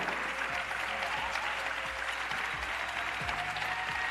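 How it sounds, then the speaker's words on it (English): Steady applause from a town hall audience, a continuous patter of many hands clapping at moderate distance with no talk over it. "Come on, clap for them."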